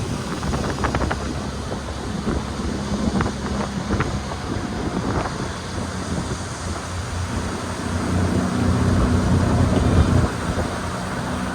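Suzuki outboard motor pushing a 1971 13 ft Boston Whaler along at steady speed, a low continuous drone under heavy wind buffeting and water rush, swelling slightly near the end.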